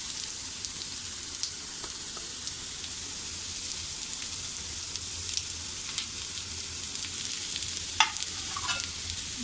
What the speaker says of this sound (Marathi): हे सुद्धा आता व्यवस्थित आपण सोनेरी रंगावर परतून घ्यायचं आहे